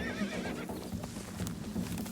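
An injured, frightened young horse neighs loudly and bolts, its whinny ringing out close by over a rumble of hoofbeats as it runs off.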